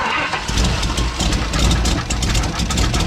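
GMC Sierra engine fitted with a Huron Speed turbo kit idling steadily at its first start-up, a loud, continuous low rumble close by with no talk over it.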